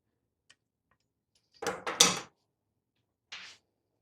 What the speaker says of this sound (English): Put it on there and listen for the snap.